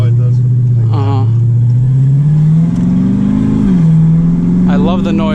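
A cammed Dodge Challenger Scat Pack's engine revs and idles loudly up close, with a deep, lumpy rumble rising and falling in pitch throughout. Voices talk over the engine.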